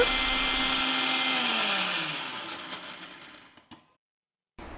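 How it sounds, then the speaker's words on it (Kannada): A mixer grinder grinds chutney with water and salt, a loud steady whirr that slows and winds down to silence, then briefly starts up again at the end. "ಇದಕ್ಕೆ ಬೇಕಾದಷ್ಟು ನೀರು ಹಾಗೆ ರುಚಿಗೆ ತಕ್ಕಷ್ಟು ಉಪ್ಪನ್ನ ಹಾಕಿ ಸ್ವಲ್ಪ ನುಣ್ಣಗೆ ರುಬ್ಕೊಂಡ್ಬಿಡೋಣ"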